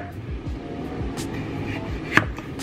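A knife slicing potatoes into fry shapes on a cutting board for oven-baked fries, giving a loose series of close, soft chops with one sharper knock near the end.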